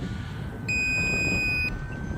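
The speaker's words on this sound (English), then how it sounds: "That beep is a little bit annoying." High electronic beep from an Arrows Pioneer 620mm ready-to-fly RC plane flying in wind, a single sustained tone lasting about a second over steady wind and motor noise.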